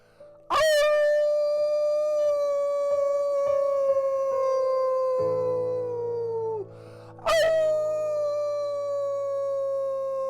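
Long, sustained wolf howls, one voice sliding down in pitch and another joining, then a fresh howl rising again, loud and close.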